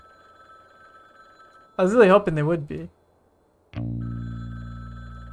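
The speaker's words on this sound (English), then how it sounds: "I know the phone's ringing, but I'm busy." A telephone in the Frog Detective video game rings in short electronic bursts that stop while someone speaks, then start again once the talking ends, close and moderately loud.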